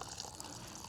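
Water runs steadily from a tap while pork is washed at a forest campsite in Baguio, a soft continuous splashing with no voices.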